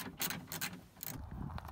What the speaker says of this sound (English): we can undo the three 11 millimeter bolts in there